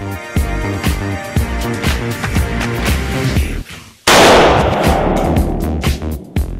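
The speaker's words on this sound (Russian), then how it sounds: "Производим выстрел." A single loud rifle shot from a Snipex rifle bursts out abruptly midway, preceded by rhythmic background music.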